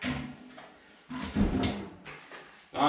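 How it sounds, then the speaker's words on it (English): A Drolet Model H wood stove door swings shut with a soft metallic scrape, then a dull clunk and latch sounds as it settles closed, all heard up close. "So I close the door."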